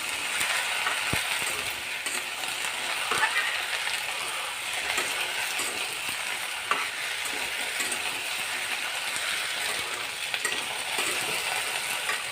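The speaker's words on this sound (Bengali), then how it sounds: "তাই ভাবলাম যে এরকম করে ভেন্ডিটা ভাজি করি।" Okra (bhindi) fries in a pan with a dense, steady crackling sizzle, with faint intermittent scrapes of stirring throughout, heard close with no talk.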